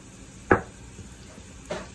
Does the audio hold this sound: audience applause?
no